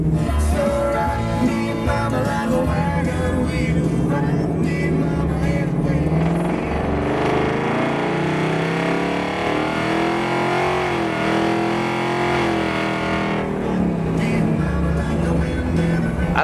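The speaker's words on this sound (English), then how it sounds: "the sound of that exhaust from a Coyote 5-liter engine" Custom classic Ford Mustang with a Coyote 5.0-liter V8 running on the road, a loud, steady low exhaust rumble that swells and eases as it accelerates, with music playing alongside.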